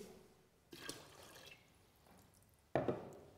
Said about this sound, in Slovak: Prilejeme vody.